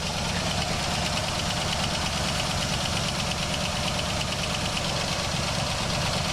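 A Buick car engine, just fitted with a new water pump and points, runs at a steady idle with an even, continuous mechanical rumble and slight knock, close and unbroken throughout.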